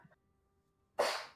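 A single sharp sneeze bursts out near the end after a brief quiet stretch, loud and close, with a soft breath just before.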